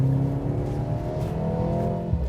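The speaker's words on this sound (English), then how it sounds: "make the exhaust a little louder" A four-cylinder car's exhaust, set louder through an infotainment switch, revs in a steady rising drone with strong harmonics, loud and close, with no talk over it.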